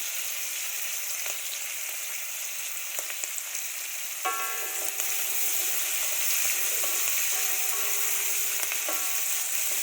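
Onions and curry leaves frying in oil for a chicken curry, a constant loud sizzle with faint stirring scrapes and clinks partway through, no talking.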